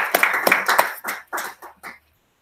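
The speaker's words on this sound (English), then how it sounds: "Let's give her another round of applause" An audience at a wellness speakers' showcase applauds after a talk: a short burst of hand claps that thins into a few scattered claps and stops after about two seconds, close and fairly loud.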